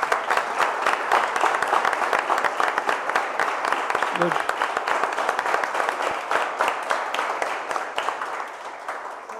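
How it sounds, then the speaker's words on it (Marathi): An audience at a student Java project competition applauds the team leads, with dense, sustained clapping from a room of people and a voice briefly heard over it before the clapping tapers slightly. "टीम लीडसाठी पण एकदा टाळ्या झाल्या पाहिजेत परत एकदा"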